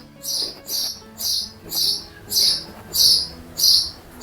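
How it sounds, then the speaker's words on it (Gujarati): Sparrows chirping noisily near a garden betel vine, eight sharp, evenly spaced bursts of loud chatter in a steady rhythm, close by and with no talk. "હવે ચક્કાનું ચાલુ, અમને દેખે ને એટલે એને બોલવાનું બહુ વધી જાય."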